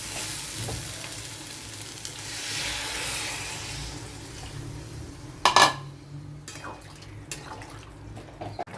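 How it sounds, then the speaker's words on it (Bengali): Vegetable curry of taro and pointed gourd sizzles steadily in a pan, then water is poured in. A sharp, loud hiss bursts out midway and settles into a softer simmer with occasional utensil clinks. "এবার আমি জল দিয়ে দিচ্ছি।"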